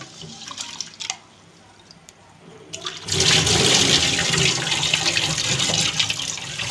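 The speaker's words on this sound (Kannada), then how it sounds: "ನೆನೆ ಹಾಕಿದ ಅಕ್ಕಿಯನ್ನು ಒಮ್ಮೆ ತೊಳ್ಕೊಳ್ಳುವ" Soaked rice is washed in water: quiet drips and light handling at first, then a loud rush of pouring and sloshing water that continues steadily to the end.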